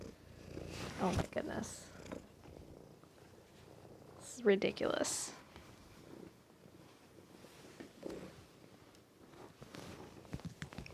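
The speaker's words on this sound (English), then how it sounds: "I don't know if you all can hear him purring, but he is kind of hilarious." A big domestic cat purrs in soft, uneven bursts, faint and close, mixed with rustling and handling noises while someone talks over it.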